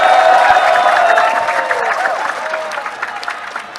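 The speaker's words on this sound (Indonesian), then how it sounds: "Tepuk tangan sekali lagi untuk Rocky Gerung." Audience applause fills a hall at an Indonesian policy forum, loud and dense at first with some cheering, then slowly thinning out over a few seconds.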